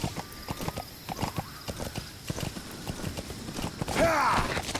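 Horse in Metal Gear Solid V, rapid hoofbeat clip-clops heard close, ending in a loud whinnying neigh.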